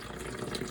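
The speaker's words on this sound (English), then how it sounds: "just pour it in slowly." Cold brew coffee is poured slowly through paper towels, making a faint, steady trickle of liquid with a soft watery hiss throughout.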